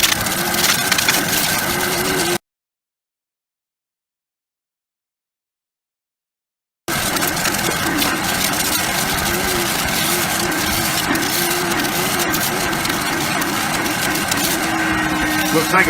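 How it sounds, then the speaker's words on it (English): Shop vac extractor spraying water into a cloth vehicle seat and sucking it back up, a loud continuous motor whine with gurgling suction, briefly cut out, a voice talking over it. "Ejects the water in, the vacuum sucks it up."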